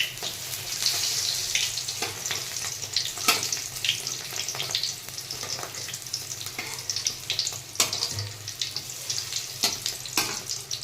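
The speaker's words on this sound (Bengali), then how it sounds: "এটা একদিকে প্রায় ভাজা হয়ে গেছে, এটা আমি ধীরে ধীরে করে এভাবে পাল্টিয়ে নেব, আর অন্যদিকেও ভেজে নেব ভালো করে" Fish and egg fritters frying in a pan, a continuous close crackling sizzle with occasional clicks and scrapes as they are turned.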